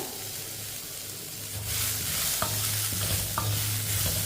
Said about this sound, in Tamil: இதையும் லைட்டாக வதக்கிக்கிறோம்